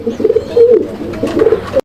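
Maxi racer pigeons coo at a pigeon seller's loft in Mirpur, Dhaka, giving loud, close, repeated throaty rolling calls in quick succession with no talking.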